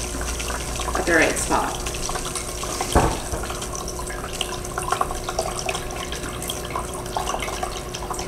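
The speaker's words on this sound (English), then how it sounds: "you can just go ahead and add some more water to the back of the simulator reservoir" Water pours into the reservoir of a groundwater simulator, a steady close trickle and splash with occasional drips, while a person speaks briefly over it.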